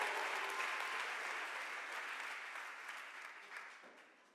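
Applause from a church congregation during a sermon, a dense, sustained wash of many hands clapping that slowly fades over four seconds, with no talking on top.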